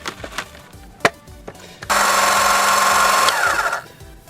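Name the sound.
12V DC electric hydraulic car jack motor running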